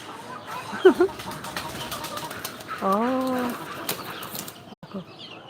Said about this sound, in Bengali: মুরগিও দৌড়ে লাভ দিয়ে নামছে উপর থেকে